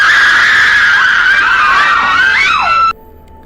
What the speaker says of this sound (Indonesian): Jeritan wanita itu semakin kencang,